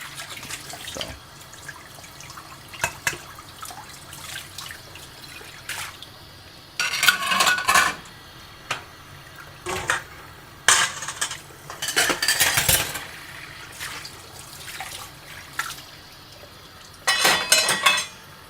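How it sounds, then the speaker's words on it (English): Dishes being washed at a kitchen sink: running tap water with intermittent clinks and clatters of cutlery, dishes and pans, in scattered bursts over a quiet background. "I do the dishes though."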